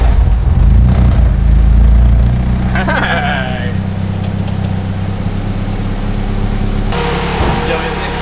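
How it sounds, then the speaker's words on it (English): A rear-wheel-drive-converted Honda Civic engine idles with a steady low rumble close by, smooth and even, while a person speaks briefly over it. "How quiet the engine is right now."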